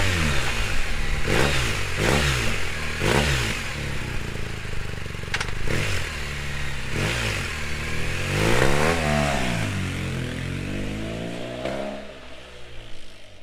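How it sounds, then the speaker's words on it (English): A 2022 BMW R1250GS motorcycle fitted with an SC Project exhaust is revved repeatedly and loudly close by, with each blip rising and falling in pitch in quick bursts before a longer, sweeping rev. "So yeah, I've gone for the SC Project exhaust, and I absolutely love it, especially when you're giving it some beans"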